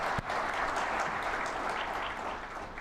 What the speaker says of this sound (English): May I request you, to all of you, to give both of them a big applaud